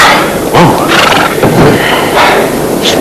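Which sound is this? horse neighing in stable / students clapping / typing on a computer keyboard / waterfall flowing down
horse neighing in stable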